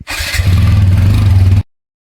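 Motorcycle engine cranking and catching, a brief starter whir then a loud, close, steady throbbing idle with a pulsing low rumble that lasts about a second and a half before cutting off.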